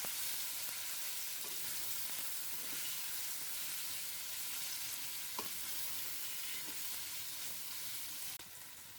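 Chicken pieces fry in a pan for vegetable chicken macaroni, a steady close sizzle running throughout with a couple of faint utensil taps, no one talking.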